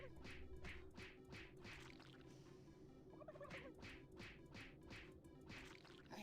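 Turkeys gobble over and over in the video game Super Turbo Turkey Puncher 3, a quick run of loud, close gobbling bursts over a steady game backdrop, with no talking.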